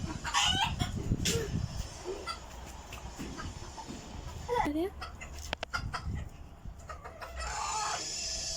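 Chickens cluck and squawk nearby in scattered bursts, with a brief rooster-like crow, while a person speaks a short word among rustling movement.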